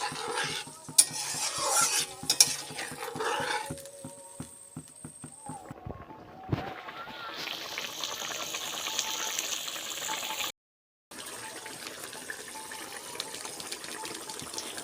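A yogurt curry with pointed gourd, made without onion, ginger or garlic, simmers and is stirred in a pan. Scraping and clinking give way to a steady bubbling, watery hiss, briefly cut by a moment of silence.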